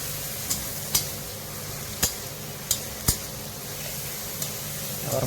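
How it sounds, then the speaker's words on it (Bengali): Onions and tomatoes with green chili fry gently in a pan, a low steady sizzle broken by a handful of sharp spatula taps against the metal at irregular intervals. "পেঁয়াজগুলো ভাজা হয়ে গেছে"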